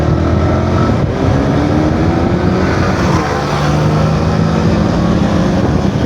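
A motorcycle engine drones loud and close while riding on a group ride, with steady wind rush and shifting engine tones throughout.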